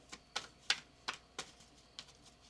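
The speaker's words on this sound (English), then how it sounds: "One more shuffle." Tarot cards are shuffled by hand in a run of about seven crisp, evenly spaced slaps and taps, close and fairly quiet, with no talking.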